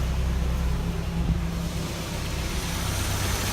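A Suzuki X-90's engine idles with the air conditioning switched on, giving a steady, even low rumble that holds constant at close range with no talking.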